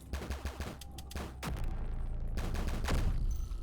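Rapid gunfire from the open-world bullet hell roguelike PUNK, bursts of quick repeated shots early on, then a denser, louder sustained barrage with a brief lull midway.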